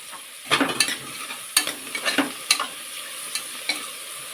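Chopped tomatoes for bisibele bath sautéing in a pan, a soft sizzle broken by several sharp stirring clacks and scrapes of a spoon at irregular intervals, close, with no talking.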